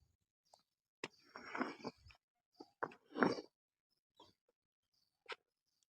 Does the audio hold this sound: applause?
no